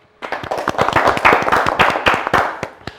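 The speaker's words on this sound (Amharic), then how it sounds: "ወደ ቀጥታ ወደ ውድድራችን መግባት እንችላለን ካላችሁ ማጨብጨብ ትችላላችሁ።" An audience at a live debate competition bursts into brisk applause, a dense run of sharp hand claps that starts abruptly and holds steady at close range before easing slightly.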